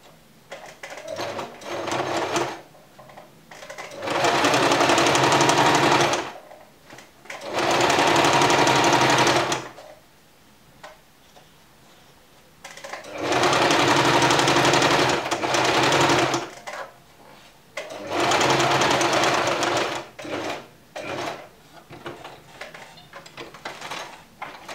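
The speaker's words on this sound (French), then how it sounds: "Après, vous venez piquer à quelques millimètres du bord" Sewing machine stitching a few millimetres from a folded fabric edge on the wrong side, running in four rapid whirring bursts separated by short pauses, close and clear.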